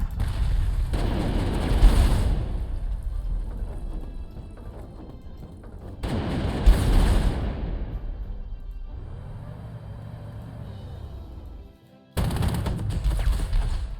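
Artillery fire in Panzer Corps 2, a World War II strategy game: three heavy booming salvos spaced several seconds apart, each with a sharp onset and a long rumbling decay, with a humming engine-like drone between them.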